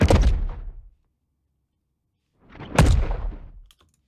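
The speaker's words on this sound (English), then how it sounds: "Let's try this on some impacts." Two separate heavy impact hits, each a loud broadband thump with a decaying tail, about two seconds apart with silence between, processed in iZotope RX.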